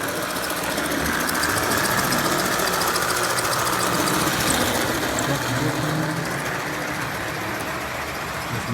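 A Marx O27 1666 toy train locomotive with a freshly repaired truck runs steadily, its small motor giving a continuous close, buzzing whir with gritty mechanical rattle and no pauses.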